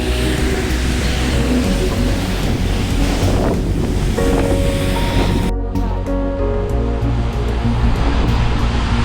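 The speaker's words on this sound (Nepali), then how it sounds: "हावा पनि चिसो चलिरहेछ।" A strong cold wind buffets the microphone during rain in Riyadh, Saudi Arabia, a loud continuous roar and rumble that cuts out briefly near the middle before the gusts carry on.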